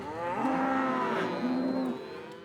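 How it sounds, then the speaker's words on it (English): Cattle moo loudly and close by on a cattle drive in the Sierra Nevada foothills, two long low bellows one after the other, with no talk. "the Carvers drive their cattle 25 miles every fall"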